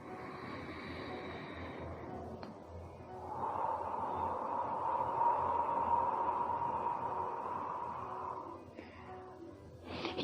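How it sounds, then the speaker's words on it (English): A deep breath in followed by a long, slow exhale, heard up close as a soft, airy rush that swells and holds for several seconds before fading. "Take a deep breath as much as you can and exhale."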